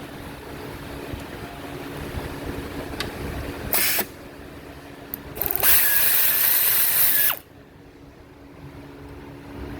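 A power tool unbolts an A/C line on a Chevrolet Cruze in two loud bursts, one short and one lasting a few seconds, heard close against a quiet shop background.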